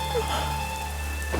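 Steady rain falls outside a home on a wet night, a dense even hiss of drops on surfaces holding level throughout, with a faint hum underneath and no voices.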